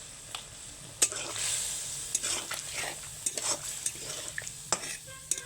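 Shukto vegetables cooking in milk and water in a pan, with a soft bubbling sizzle under repeated sharp clinks and scrapes of a spoon stirring against the pan.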